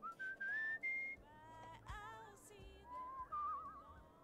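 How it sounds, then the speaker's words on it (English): A character in the video game Where the Water Tastes Like Wine whistles a short rising tune, clear and close, with brief quiet gaps between notes. "but he can whistle"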